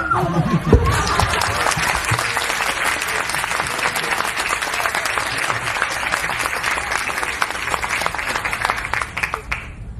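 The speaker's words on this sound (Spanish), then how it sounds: "yo pensé que el aplauso iba a ser cuando diga Don Rodrigo." Sustained, dense audience applause fills nearly the whole stretch after a brief onset, loud and steady, then tapers at the very end. It comes from a live stage show marking 40 years of an Argentine musical-comedy group.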